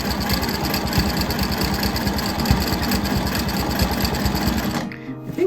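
A sewing machine quilts a mandala quilt with a rapid, steady mechanical chatter of needle strokes, close and continuous, then stops abruptly near the end.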